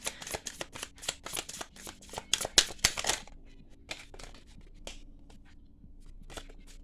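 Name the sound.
tarot cards being shuffled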